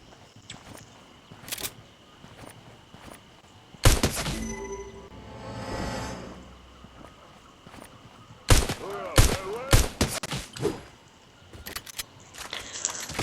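Gunfire in the Fortnite Battle Royale video game: scattered sharp shots and short bursts, some loud and close, with a quieter stretch of game sounds between volleys and no voices.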